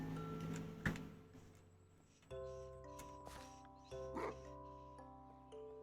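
Dogs bark in the Minecraft video game, a few short yips scattered over sustained tonal game sounds, fairly quiet overall.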